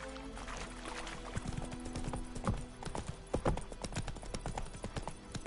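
Horse hooves clop rapidly in The Witcher: Wild Hunt video game, an uneven run of close, crisp hoofbeats building into a gallop, heard alone without talk.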